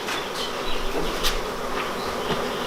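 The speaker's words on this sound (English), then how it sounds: "Too many fly bees outside." A bee swarm drifting out of a garage into the open air makes a steady, dense buzz, with individual bees passing close now and then. No voices.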